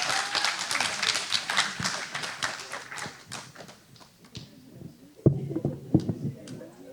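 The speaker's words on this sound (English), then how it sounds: "Let's give them a huge round of applause." Applause at a board meeting after a swearing-in, a round of scattered clapping from a modest room that fades, then a few louder claps and voices.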